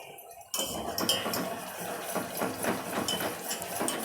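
A spoon stirs homemade hair oil in a metal pot, giving steady scraping and clinking with small knocks, close and fairly loud throughout after a quiet opening half-second.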